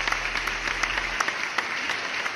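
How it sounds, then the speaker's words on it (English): A round of applause, steady dense clapping that runs the whole time, with a low music bed under the first half that then drops out. "Give me a round of applause."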